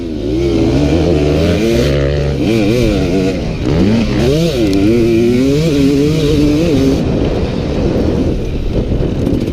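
Several racing motorcycles, one of them a 4-stroke bike, roar together with rising and falling revs as they chase each other; loud and continuous, with no talk over the engines.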